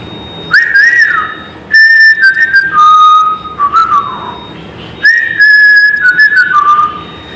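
Shrill, loud mouth whistling without fingers, produced as three bursts of sustained and wavering tones separated by short pauses.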